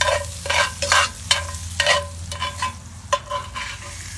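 Cheesy potatoes scraped and stirred in a Dutch oven, a series of rhythmic close scrapes over a low sizzle, with no voices.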